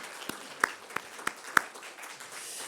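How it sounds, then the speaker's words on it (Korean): Applause from a church congregation at a Sunday service greets newly registered members, a fairly faint, thin spread of clapping with several sharp, distinct nearby claps standing out. "크게 박수로 환영하겠습니다"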